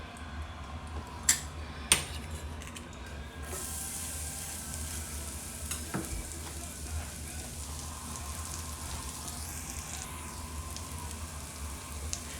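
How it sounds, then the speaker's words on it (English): Garlic sautéing in a skillet, a faint steady sizzle with a few sharp clinks of a utensil against the pan. "I want to saute this. Just saute the garlic just a little bit."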